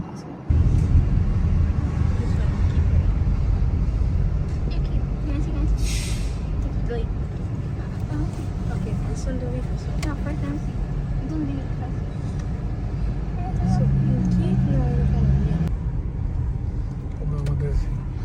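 An Uber car rolls along a New Jersey road with a steady low engine and road rumble, and a brief hiss partway through. People talk over it throughout.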